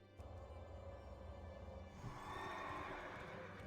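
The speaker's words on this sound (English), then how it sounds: "Oh, that poor horse." A horse in World of Warcraft: Wrath of the Lich King whinnies, a faint, drawn-out neigh over low game ambience, with the tone shifting partway through.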